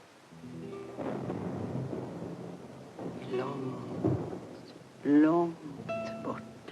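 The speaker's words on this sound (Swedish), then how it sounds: "Nu blir det åskväder." Thunder rumbles through a rainy storm in a 1958 Ingmar Bergman film, several low rolling swells at moderate distance, with people talking over the storm.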